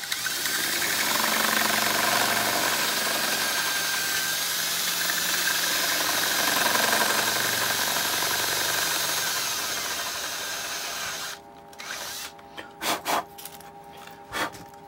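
A drill with a step bit widens a hole in a concrete loudspeaker build, a sustained close whirring grind running for about eleven seconds before stopping, followed by a few sharp handling knocks.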